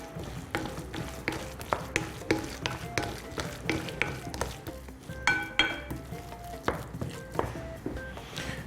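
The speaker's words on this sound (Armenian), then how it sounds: "Եվ շատ լավ խառնենք, որպեսզի բաղադրիչները հավասար տարածվեն։" Ingredients are stirred briskly in a bowl for a ham roll, utensil scraping and clinking against the sides in a steady repeating rhythm, close and moderately loud with no talking.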